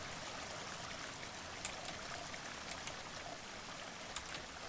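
Water flows and trickles in the DrainSim video game, a steady, soft, continuous wash with a few faint drips or splashes and no talking.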